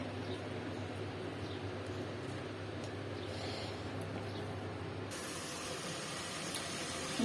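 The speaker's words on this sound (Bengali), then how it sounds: "মাছটাকে ধুয়ে ক্লিন করে ভাজতে দিয়ে দিয়েছি" Fish that has been washed and cleaned fries in a pan, giving a steady, even sizzle and hiss that runs unbroken and fairly close throughout, with no voices over it.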